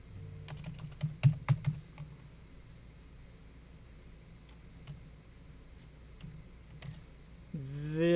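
Computer keyboard typing a short part number into a catalog search: a quick burst of key clicks early on, then a few sparse isolated taps in a quiet room, ending with a brief tonal sound.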